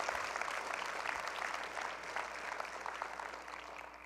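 A church congregation claps together, a dense, sustained wash of applause that fades slightly toward the end.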